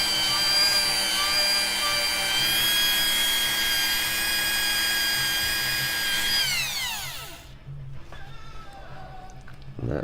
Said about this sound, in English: Run some 1500 sandpaper around it.